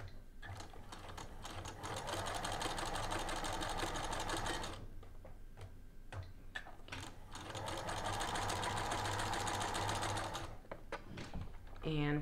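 A sewing machine stitches a tuck in fabric in two long, steady runs of even, buzzing stitching, close and fairly loud, with brief quiet pauses between them.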